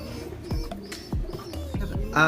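Pigeon cooing close by, several short low coos repeating at a steady rhythm, with a faint voice at the end.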